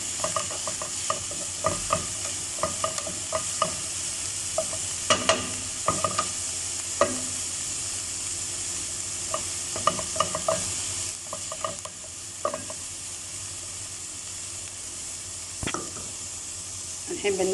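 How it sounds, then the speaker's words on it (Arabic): Onions are stirred while they fry in a pan, giving a continuous soft sizzle broken by repeated scrapes and clinks of the utensil at an uneven rhythm. The sound is close and fairly quiet, with a voice speaking briefly over it. "نحرك البصل"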